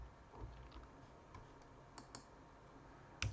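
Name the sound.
typing on a computer keyboard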